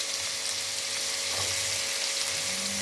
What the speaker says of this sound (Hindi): प्याज को इसमें फ्राई कर लेंगे